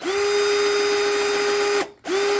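An imax IMCD-20GT cordless three-mode drill runs at speed setting 1, a loud steady whine that stops briefly near the end and then spins up again.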